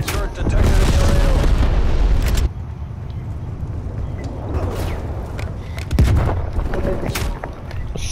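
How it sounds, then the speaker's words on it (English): Heavy booming explosions from a napalm strike in Call of Duty, a loud sustained rumbling blast for about two seconds, then quieter ongoing rumble and crackle with a second burst near the six-second mark; voices may be faintly mixed in. "Sit rep, napalm strike inbound."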